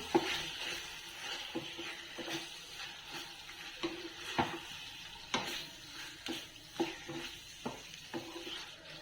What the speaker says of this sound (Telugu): అల్లం వెల్లుల్లి పేస్ట్ వేగింది ఇప్పుడు మనం కలిపి పెట్టుకున్న చికెన్ వేస్తున్నాం